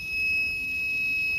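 A 70mai car jump starter sounds its reverse-polarity warning: one continuous high electronic beep, steady and fairly loud, held for the whole moment with nothing else over it.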